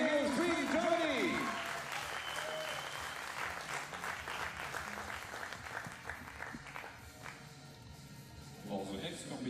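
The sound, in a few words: applause at a junior rifle competition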